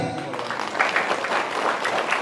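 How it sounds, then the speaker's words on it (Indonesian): A burst of clapping from a gathered audience, steady and fairly loud for a couple of seconds with a few voices mixed in. "Tepuk tangan lagi."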